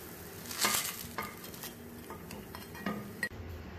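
Foxtail millet paniyaram frying in a pan and being turned, with a soft sizzle and several metallic clinks and scrapes of a utensil, close and quiet, no speech.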